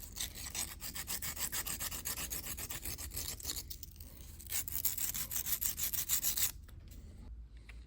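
Burrs are filed off a Brown & Sharpe dividing head part, producing quiet rhythmic rasping strokes repeated steadily at close range, with a few brief pauses.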